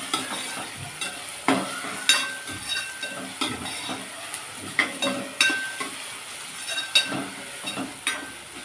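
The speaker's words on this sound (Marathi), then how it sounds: "पुन्हा एकदा चमच्याने ढवळून घेऊया." A spoon stirs dry chicken masala in a pan, scraping and clinking in repeated strokes over a steady sizzle of frying.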